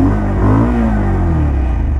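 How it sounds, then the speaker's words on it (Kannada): A 2025 Bajaj Pulsar 150 twin-disc motorcycle engine revs up close, a loud, deep rumbling idle with a rising and falling pitch over two seconds. "ಇಂಜಿನ್ನ ಸೌಂಡ್ ಈ ಥರ ಕೇಳಿಸುತ್ತೆ"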